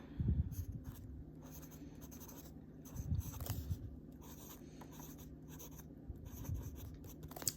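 A broad-nib fountain pen laying down wet Pilot Iroshizuku Yama-Guri brown ink on paper, giving soft continuous scratching strokes in bursts, close and fairly quiet with faint background hum.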